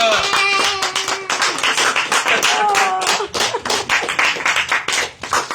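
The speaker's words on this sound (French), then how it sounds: "Quelqu'un acclame le Seigneur." A church congregation claps and cheers for the Lord at a revival service, with dense, steady rhythmic clapping throughout, shouts rising above it, and a voice calling out in places.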